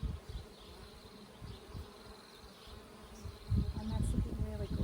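Honey bees buzz around an open hive during a summer inspection, a close, continuous drone with individual bees flying past, growing louder toward the end.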